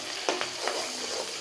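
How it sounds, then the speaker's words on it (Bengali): Onion and spices, including turmeric and chili, frying in a pan as a steady sizzle, with a few quick spoon scrapes close by in a short burst. "মশলাটা আমার এখানে ভাজা ভাজা হয়ে গেছে।"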